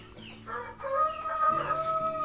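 An Indio Gigante rooster crows, a drawn-out crow rising and holding with strong harmonics, close and clear over faint background clucking of other fowl at a poultry farm in Temanggung.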